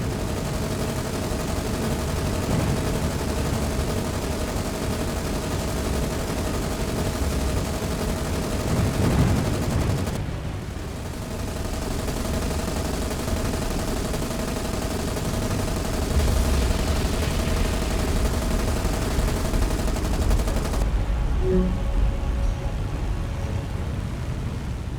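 Havoc aircraft strafing ships in the naval video game War on the Sea: a continuous, dense roar of rapid gunfire and engine noise, loud and unbroken, with brief dips before resuming, no voices.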